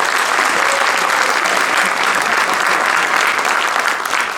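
Dense, loud applause from school faculty honoring district forum members at an end-of-year awards gathering, a continuous roar of many hands clapping at full strength throughout, close and unbroken.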